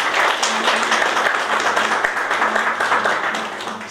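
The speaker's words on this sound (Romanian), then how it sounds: "sincere aplauze pentru toți dumneavoastră" Applause from a gala audience at a Romanian excellence awards evening, a dense, even wash of many hands clapping at once, steady and fairly loud, slowly fading toward the end.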